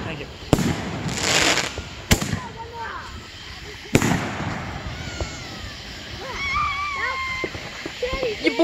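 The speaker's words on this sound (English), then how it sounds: "Your boy just shot a firework motor!" Firework mortars launching at an outdoor Independence Day backyard gathering, with several sharp loud pops and a crackling burst, while people shout and talk excitedly nearby and a dog seems to bark.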